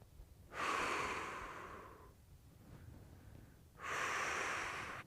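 Two long, slow, deep breaths are drawn in and pushed out during an intermediate hip and hamstring stretch, each airy and close with a brief quiet pause between them.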